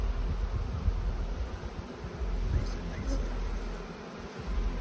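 Honey bees buzz around open beehives in a dense, steady drone close by, with a brief spoken word over the swarm.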